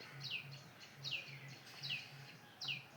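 Evening cuckoo in a tree gives four evenly spaced, sliding whistled calls, faint and some way off, with a low pulsing hum running beneath.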